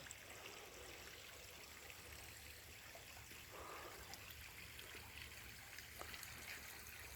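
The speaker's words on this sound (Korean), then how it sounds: "지금 수로에서 논으로 들어가고 있는 물소리가 들립니다." Water trickles steadily from an irrigation channel into a rice paddy, a faint, continuous outdoor babble with soft splashing and no voices.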